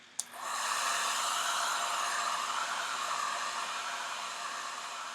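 A hair dryer blows steadily on a section of chalk paste, a near, loud continuous whoosh that starts with a click and holds without pause.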